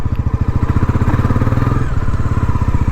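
A Bajaj Pulsar NS400Z motorcycle being ridden, its engine throbbing loudly in a close, steady rhythmic pulse.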